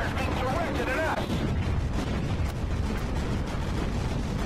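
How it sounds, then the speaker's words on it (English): Enemy fire bombarding a battleship in the naval combat game Battlestations Pacific, a continuous roar of booming shell impacts and explosions, loud and dense throughout, with a voice speaking briefly over the din early on. "Enemy fire is being directed at us."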